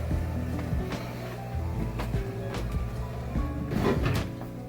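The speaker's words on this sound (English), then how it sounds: "I have to close the furnace room door" A furnace room door is pushed shut in a basement beside a 1988 Williams Taxi pinball machine, with a few thuds, scrapes and rattles over a steady low mechanical hum.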